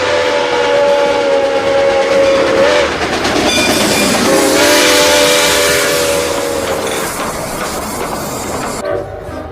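A loud train rumbles steadily along with rhythmic rail clatter and a long sustained whistle tone, close and continuous.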